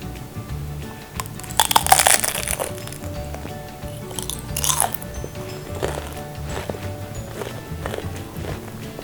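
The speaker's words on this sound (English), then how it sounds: "we are done with some really crunchy, nice samosas. And now it's time to taste." Crunchy Tanzanian samosas with a smoky flavour bitten and chewed up close, a few sharp crackly crunches in quick bursts followed by softer chewing, with no talk.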